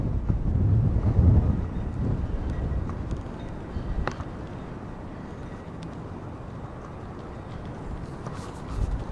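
Strong gusty wind roars and buffets the microphone outdoors, heaviest at first and then settling into a steady rumble with occasional small knocks.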